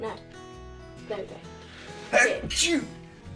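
A single sharp sneeze bursts out near the microphone, preceded by a quick intake of breath, with some faint background talk and hum.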